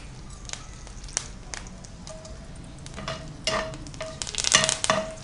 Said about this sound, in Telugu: కొంచెం వేగండి మిర్చి.